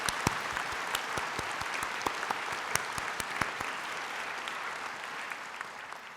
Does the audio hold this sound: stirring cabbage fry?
no